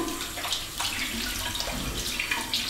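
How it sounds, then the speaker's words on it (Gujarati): A tap runs steadily into a sink while hands are wetted under the stream. The water rushes close by and continuous, with small splashes as the hands move through it, and no one speaks. "સૌથી પહેલા નળ ચાલુ કરીશું અને હાથ ભીના કરીએ."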